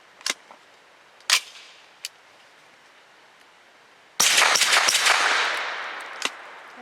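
A Grand Power Stribog fires Team Never Quit 100 grain frangible rounds: three softer, distant-sounding reports, a quiet pause, then a loud, close shot with a long ringing decay and one more faint report.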